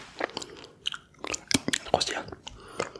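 Close, crisp crunching and wet chewing of crunchy food come in irregular bites and clicks, intimate and mouth-near, with faint whispery voice sounds mixed in.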